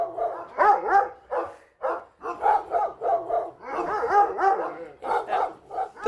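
Several dogs at a shelter for problem dogs bark repeatedly and loudly nearby, with yips and whimpering mixed between overlapping bursts of barking.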